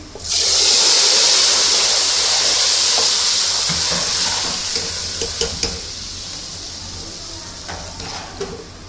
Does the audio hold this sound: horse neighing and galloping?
no